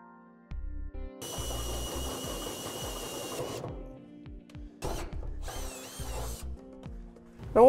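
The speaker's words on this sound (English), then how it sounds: "we're going to go ahead and drill 4 1/2-inch holes from the underside for our safety chain U-bolts" A power drill bores half-inch holes up through the underside of a 2014 Chevrolet Silverado truck bed for gooseneck hitch safety chain U-bolts, loud whining bursts of drilling separated by pauses, close by.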